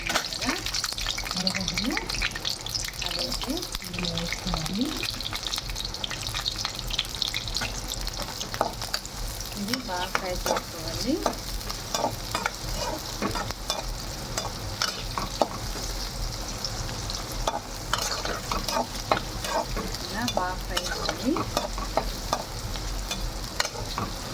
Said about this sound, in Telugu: ఎర్రగడ్డలు అయితే ఇలాగ ఫ్రై అయిన తర్వాత